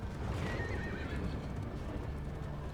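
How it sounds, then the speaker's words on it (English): Horses in the video game Darkest Dungeon 2 neigh and whinny with clip-clopping hooves, a short, close burst over a dense, rumbling game soundscape. "The horses don't seem happy either."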